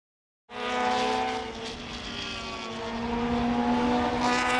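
A Lola T70 race car with a 5.7 litre Chevy engine roars at Brands Hatch during a historic racing festival, a loud sustained engine note that swells abruptly and holds strong, pitch shifting slightly as it passes.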